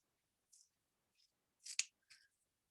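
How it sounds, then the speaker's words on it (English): Scissors trim the overhanging edges of a wood veneer sheet in a few short, quiet crisp snips, close and isolated against near silence. "Get your scissors and trim"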